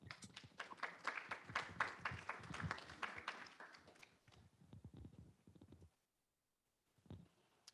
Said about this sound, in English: Colleen is doing the clapping